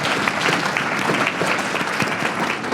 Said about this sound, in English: Please, an applause for the social team.